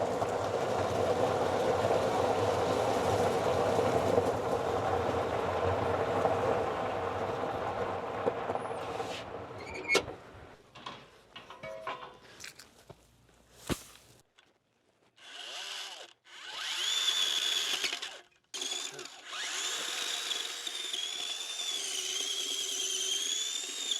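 A powered auger bores planting holes in garden soil with a steady grinding drone that cuts out partway through, followed by quieter scrapes, squeaks and knocks.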